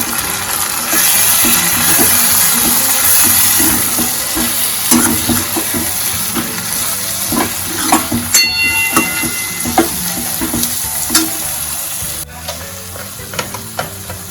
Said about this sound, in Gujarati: એક ટેબલ સ્પૂન ધાણા જીરું પાવડર એડ કરીશું મિક્સ કરી લઈશું